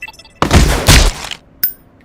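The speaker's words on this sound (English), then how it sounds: "if you wonder what that noise was, that was a firework" Firework going off outside, a broad muffled boom with a rushing crackle that lasts close to a second, followed by a sharp fainter pop, heard at a distance through the walls.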